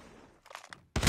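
A Rytec sniper rifle fires in a shooting video game: a single loud, sharp report at the end, after a quiet stretch with faint clicks and rustling.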